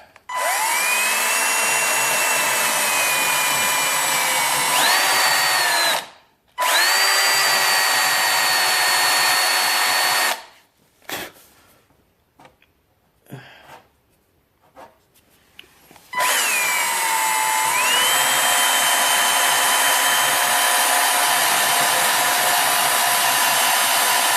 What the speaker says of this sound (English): use a rubber wheel on the drill